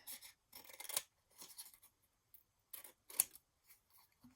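Scissors trimming paper for handmade card making, a series of quiet, crisp snips in small uneven bursts with short pauses between, close up and soft.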